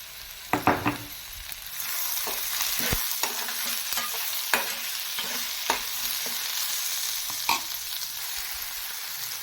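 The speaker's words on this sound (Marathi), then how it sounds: "आपला कांदा भाजायला सुरुवात झालेली आहे आता आपण ह्यामध्ये घालून घेऊया टॉमॅटो आणि थोडंसं मीठ" Chopped onion and tomato with a pinch of salt frying in oil in a kadhai for prawn masala, with a steady close sizzle broken by regular spoon scrapes and knocks as it is stirred.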